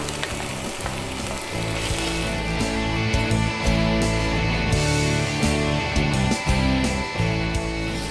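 Steady, loud sizzling of ginger, garlic and bird's eye chillies frying in hot oil in a pan, crackling continuously with occasional stirring scrapes and no talking.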